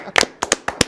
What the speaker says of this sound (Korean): 먼저 여러분들을 환영하는 박수 보내겠습니다.